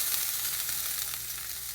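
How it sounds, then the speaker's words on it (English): Wet crumbled tofu sizzles in a hot pan, a steady bright hiss and crackle heard close and alone. "It's wet, so it's definitely going to sizzle."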